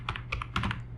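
Computer keyboard keys clatter in quick, irregular bursts as code is typed, close up and alone without talk.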